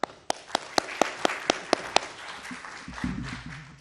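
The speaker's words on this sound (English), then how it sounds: "So another applause." Audience at a talk on social developments in the era of AI agents claps: a run of sharp, evenly spaced single claps, then scattered, softer clapping trailing off, with faint murmuring near the end.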